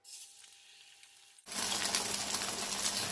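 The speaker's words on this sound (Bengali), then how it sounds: "ডিমটা আমি ঢেলে দেব" Beaten egg poured into hot oil for an egg chilli, a quiet pan hiss abruptly bursting into loud, steady sizzling that continues to the end.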